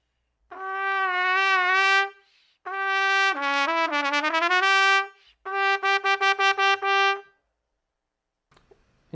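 A trumpet plays alone, nearby and fairly loud, running through three phrases: a smooth sustained line, rising-and-falling lip slurs, then quick detached chromatic notes, with a short pause between each.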